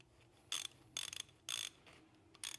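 A Silverline 1/2 inch 45-tooth ratchet gives four quick bursts of sharp clicking, each a short, bright rattle separated by brief pauses, close and distinct over a quiet background.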